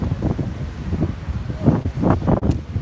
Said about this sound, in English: it's actually quite windy today.